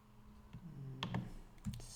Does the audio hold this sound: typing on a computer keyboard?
yes